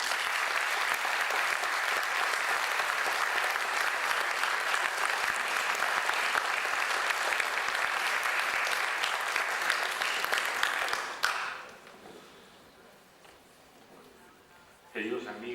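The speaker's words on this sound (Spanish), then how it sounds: "pedir un cálido y sentido aplauso" Warm, sustained applause fills the hall at a foundation event, a dense roar of clapping lasting about eleven seconds before cutting off to near quiet, with a brief burst of sound near the end.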